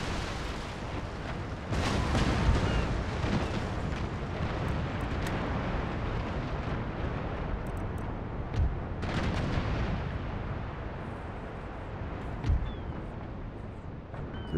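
A rocket ship fires on massed troops during a battle in Empire: Total War, heard as continuous rumbling fire with heavy booming bursts near two, nine and twelve seconds, loud and steady throughout.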